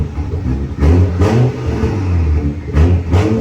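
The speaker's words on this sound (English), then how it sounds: "We'll give it a few tiny little revs." A tuned BMW M240i engine revs in a few short, sharp bursts, rising and falling loudly close by with idle rumble between.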